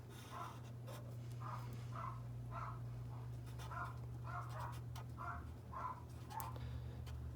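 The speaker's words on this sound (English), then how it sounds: "dogs are going nuts" Dogs barking excitedly somewhere nearby, heard as faint, evenly spaced yaps repeating about every half second over a steady low hum indoors.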